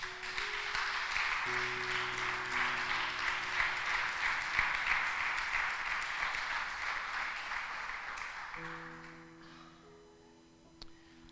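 A church congregation claps together in a sustained, dense burst of applause under a steady tonal music bed. The clapping fades out gradually near the end.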